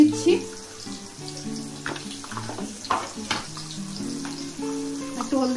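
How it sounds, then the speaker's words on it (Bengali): Taro stolons fry in a pan for a light curry, a soft steady sizzle running underneath while a person talks and utensils occasionally clink against the pan. "একটু ফ্রাই করে দিচ্ছি"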